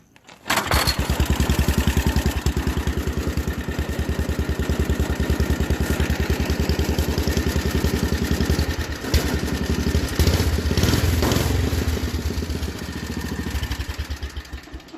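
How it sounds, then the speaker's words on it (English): Horizontal shaft engine on a rat rod tractor starts up and keeps running, a loud, close, steady rapid chugging that stays even for about fourteen seconds. "Give you a little demonstration here, I guess."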